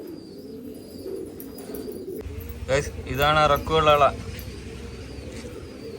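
Pet pigeons coo at close range, including the father pigeon with yellow eyes, a soft rolling coo rising briefly in the middle while someone talks over the birds.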